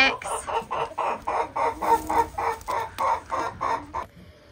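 Cream Legbar chickens in a coop clucking steadily in a rhythmic series of close, loud calls, one after another for several seconds, with no talk.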